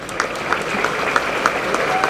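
A large outdoor rally crowd in Hong Kong claps in scattered, uneven bursts under a continuous blur of amplified voice and crowd noise, the clapping sounding fairly distant.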